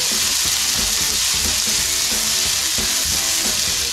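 Garlic and onion frying in a pan for chicken curry, a steady bright sizzle running throughout with occasional stirring scrapes and clicks, close and fairly loud.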